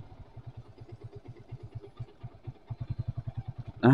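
An underbone motorcycle engine runs close by with an even, thumping idle pulse that grows louder and quicker toward the end, followed by a sudden harsh burst of noise.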